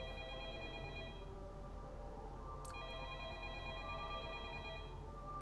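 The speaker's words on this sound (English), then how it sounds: "Cool, no one gonna pick up the phone?" An unanswered telephone rings in repeated electronic bursts, the trill loud and steady over a continuous background hum, with a brief click partway through.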